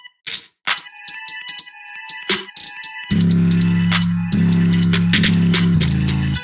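Processed arpeggio of bell-like woodpecker tones run through an Effectrix effect in a beat, starting as sparse stuttering hits, then turning into a loud, continuous pulsing drone with rhythmic chopped bursts.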